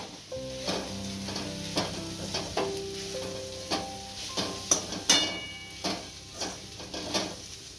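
Spices are stirred into radish greens sizzling in a pan: a steady close sizzle with repeated rhythmic scraping strokes of a spoon, about one every half second, loud and without speech.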